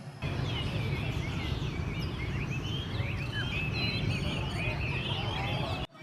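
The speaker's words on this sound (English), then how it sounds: "No, they're learning bird songs." Many caged songbirds chirp and warble at an outdoor bird café in Tao Dan Park, Saigon, Vietnam, with overlapping trills and whistles continuing steadily over a dense low murmur of background noise.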